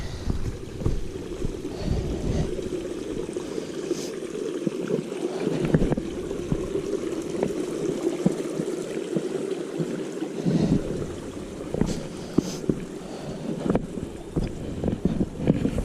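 A stream rushes steadily nearby at a trail crossing on Meigs Creek Trail, a broad burbling flow mixed with gusts of wind buffeting the microphone.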